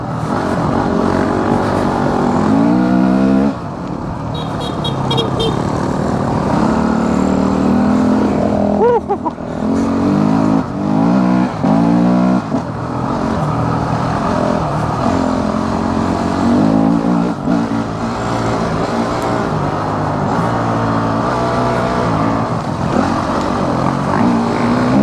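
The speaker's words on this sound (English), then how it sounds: "all you gotta do is give it a little blip of the throttle" Uncorked Honda CRF250X dirt bike engine droning loudly throughout while riding, with throttle blips and rising revs, plus a voice talking over it.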